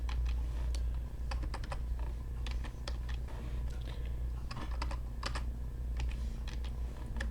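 Steady typing of code on a computer keyboard, with close, rapid clusters of crisp key clicks and brief pauses over a low constant hum.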